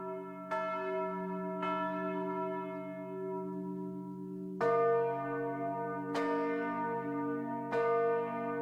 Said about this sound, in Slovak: tak robíme aj tzv. Prerušované zvonenia a vlastne zadržiavame srdcia zvonov zábehu